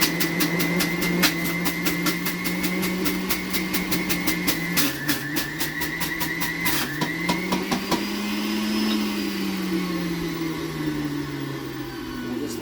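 Electric juicer running while juicing a few cups of vegetables, making a loud, steady motor whine whose pitch dips and shifts under load, with a rapid ticking or rattle over the hum.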